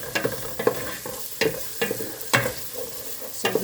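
Ingredients for a Filipino mung bean soup with coconut milk are sautéed in a pan, giving a steady sizzle. Sharp spatula scrapes cut through it about every half second.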